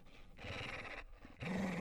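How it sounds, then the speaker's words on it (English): A chomper enemy in a video game gives a looping chase sound of heavy, rasping breaths and angry growls, with a sharper growl rising near the end. It is loud, close and heard alone. "the idle loop is replaced with a chase loop that has heavier breathing and angry growls"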